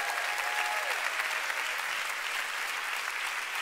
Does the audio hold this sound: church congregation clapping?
yes